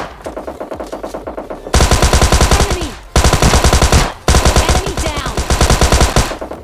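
SMG gunfire in PUBG Mobile, loud rapid automatic bursts with a few brief pauses between them and no talking.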